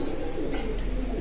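Adult teddy pigeons coo softly in a low, murmuring drone amid a dense flock, close but quiet, with no talking.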